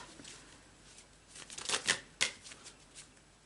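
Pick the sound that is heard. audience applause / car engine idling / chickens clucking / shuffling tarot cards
shuffling tarot cards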